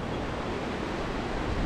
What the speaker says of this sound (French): La rivière, bah, ça manque pas d'eau.